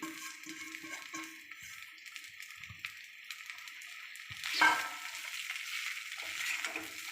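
Poha, flattened rice, is tipped into a frying pan and stirred, giving a soft sizzle with scraping and stirring scrapes and one louder clatter midway, with no voices.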